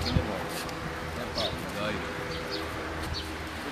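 Pigeons coo softly among the birds on a rooftop in Gujrat where they are being fed, low murmuring calls surfacing now and then over a buzzing, insect-like background hum with faint voices nearby.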